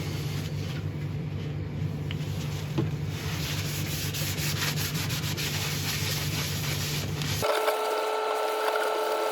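Sealer rubbed by hand onto a spinning resin-inlay woodturning on the lathe, a steady close friction hiss over the motor's low hum, which stops abruptly near the end and leaves a thinner whirr.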